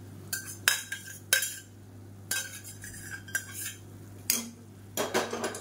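Spoon scraping and clinking in a pot as boiled moong dal is stirred into cooked drumstick leaves for a South Indian kootu side dish, a series of sharp close metallic knocks against a low steady hum, no voices.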